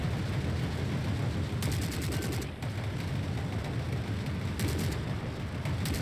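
Dense, continuous gunfire from troops firing on infantry in The Forever Winter, rapid automatic bursts and distant booms rolling together into a loud, unbroken barrage with no voices.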